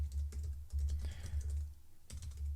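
Fast, light keystrokes patter on a computer keyboard as a prompt is typed, close and steady against a low background hum.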